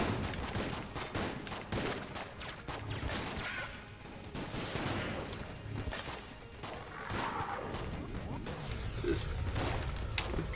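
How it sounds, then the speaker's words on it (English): Constant gunfire in Enter the Gungeon, a loud, dense barrage of rapid shots and impacts running throughout with game effects layered on top. "Stop it! Stop shooting at me!"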